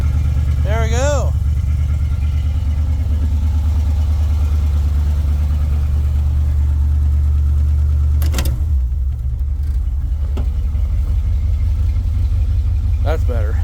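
A 1978 Jeep CJ7 engine idles steadily after a cold start in freezing weather, a continuous loud low rumble throughout, with brief voices over it near the start and end.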